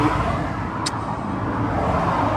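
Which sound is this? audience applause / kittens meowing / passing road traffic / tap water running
passing road traffic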